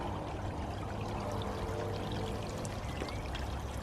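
A pump sends water pouring into a garden pond, a steady soft trickling and splashing stream heard alone at moderate distance throughout.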